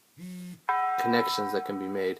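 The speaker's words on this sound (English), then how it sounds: "That's my phone." A phone rings with a short, bright electronic ringtone of clear tones, followed by a person talking over further ringing.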